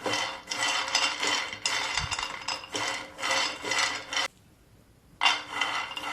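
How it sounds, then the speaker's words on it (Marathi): Peanuts dry roasting in a pan over a medium gas flame give steady rhythmic scraping and rattling bursts as they are stirred, with a brief pause before the stirring resumes. "गॅसची फ्लेम थोडीशी मीडियम ठेवायची आहे आणि छान असे भाजून घ्यायचे शेंगदाणे"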